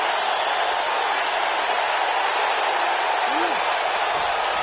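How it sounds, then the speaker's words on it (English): A wrestling arena crowd in WWE 2K19 roars steadily as a dense, continuous wash of cheering that stays loud and unbroken throughout. "Listen to this crowd."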